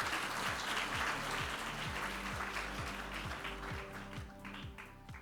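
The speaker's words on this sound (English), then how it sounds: "A round of applause to Luigi." Audience applause at the opening ceremony of the GSTC 2024 conference in Singapore, a steady wash of clapping throughout, moderately loud and fading slightly toward the end, with faint music or rhythmic tapping underneath.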